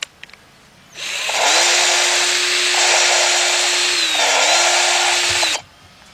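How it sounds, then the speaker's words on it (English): A power grinder removes old head gasket material from a Volkswagen Beetle engine, a loud, close, steady whining grind that spins up, holds for about four seconds with a brief dip, then cuts off. "You want to grind all that stuff from off of there."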